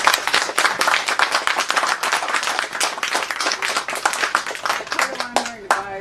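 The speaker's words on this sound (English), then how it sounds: "Can we give Khalil a round of applause for that?" Audience applause at a book event, a crowd clapping in rapid bursts that thins out toward the end, with a voice speaking as it fades.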